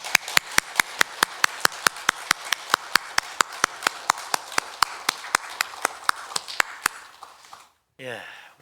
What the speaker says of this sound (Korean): 하나님 앞 우리도 힘찬 박수로 영광 돌립니다